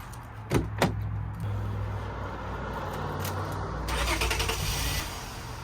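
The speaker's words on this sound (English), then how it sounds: "And now we turn on the car." Two sharp clicks, then a 7th-generation Honda Accord's engine cranks and catches, settling into a steady idle with a brief rise in revs.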